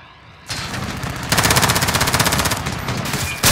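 Automatic gunfire in a battle royale video game, rapid bursts of close, loud shots that grow into a sustained rattling stream with brief pauses between volleys.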